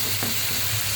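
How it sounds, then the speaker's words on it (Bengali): Spices fry in hot oil with salt added for a spicy chicken kosha, giving a steady, dense sizzle with faint stirring and no talk. "এখানে আমি মশলাগুলো সুন্দর করে ভেজে নিচ্ছি"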